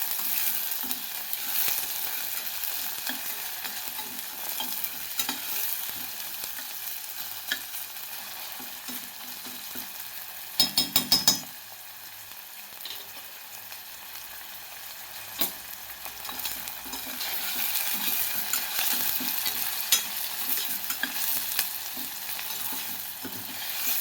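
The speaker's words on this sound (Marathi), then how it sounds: "यामध्ये आता टोमॅटो घालून आपल्याला भाजून घ्यायचं व्यवस्थित." Chopped tomatoes and onion sizzle and fry steadily in a hot pan, close and continuous, with brief bursts of scraping as the mix is stirred, and no talk over it.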